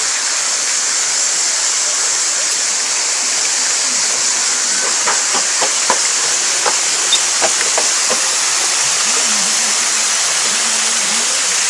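A small, somewhat dirty decorative waterfall in Alanya, Turkey, gives a steady, continuous rushing hiss of falling water that stays even throughout, with faint incidental sounds underneath.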